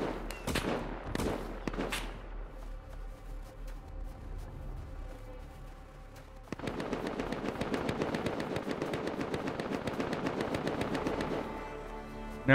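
Rapid AK rifle fire in a video game, a few sharp separate shots followed by a long, loud, sustained automatic burst that runs steadily to the end.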